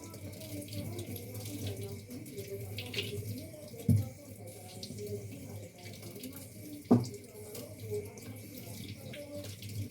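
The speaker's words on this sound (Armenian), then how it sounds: "բանջարեղենը շատ եմ սիրում հոսող ջրի տակ" Tap water runs steadily into a sink while vegetables such as potatoes are rinsed, a continuous close splashing broken by two brief knocks, with faint talk in the background.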